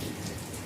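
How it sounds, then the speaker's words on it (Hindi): Heavy rain pours in a dense, continuous roar that fills the whole short moment with no pauses. "बारिश बहुत तेज़ है।"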